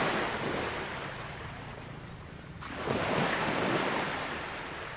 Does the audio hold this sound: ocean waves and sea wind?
yes